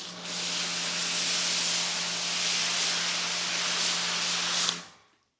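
A Big Boi Washr Pro 20 amp electric pressure washer spraying water on a car, a loud steady hissing spray with a low motor hum underneath, running continuously for several seconds before stopping abruptly.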